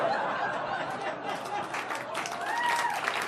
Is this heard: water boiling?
no